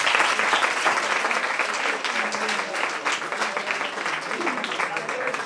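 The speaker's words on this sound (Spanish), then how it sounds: "pido un aplauso para él" Sustained audience applause at an Erasmus programme ceremony handing out Europass mobility documents, a dense, steady wash of many hands clapping close by with faint voices mixed in.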